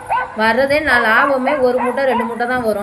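Recorded dog barking and yipping played through a loudspeaker in a crop field to scare off birds, sounding loud and continuous while someone talks over it.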